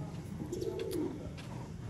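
Pure Sialkoti pigeons cooing softly in a loft, a low murmuring coo under faint background noise, fairly distant and quiet.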